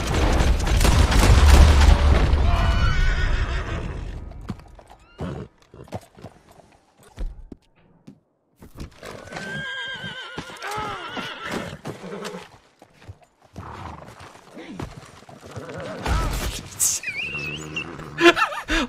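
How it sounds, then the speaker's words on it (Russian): A horse in the video game Red Dead Redemption 2 gives loud, close whinnies and snorts alongside clopping hooves, with bursts of gunfire and game effects in between and brief talking. "Простите, это моя лошадь."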